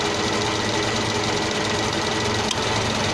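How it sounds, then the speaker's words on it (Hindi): A car engine idles with the air conditioning running, a steady mechanical hum and buzz, close and continuous, with a brief sharp click near the end as the compressor cycles. "जैसे ये कट से करता है इंजन का थोड़ा सा साउंड बढ़ जाता है।"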